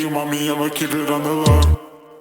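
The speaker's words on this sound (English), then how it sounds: "I added a tape stop onto the beat to get that like vinyl like" A sustained musical beat plays, then a tape stop effect abruptly slows it and drops the pitch, winding down to silence like a record grinding to a halt.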